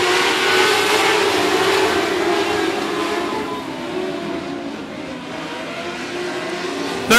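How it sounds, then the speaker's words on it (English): Race cars at 105 Speedway under green-flag racing, a continuous loud engine roar from a pack of cars sustained throughout, steady and close with no talking. "green flag racing"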